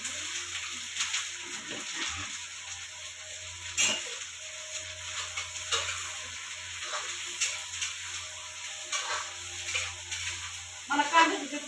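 Chopped onion and cumin seeds crackle in hot oil, an uneven close sizzle with bursts of spitting and a few clatters against the pan, a louder flare near the end.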